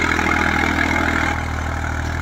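Eicher 333 tractor engine running steadily in a field while pulling an 11-tine plough, a constant low mid-pitched rumble close by, alone without talk.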